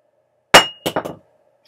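A VOSS glass water bottle dropped on its side hits the floor with one sharp, loud clang, followed by a couple of quick rattling bounces close by, then silence.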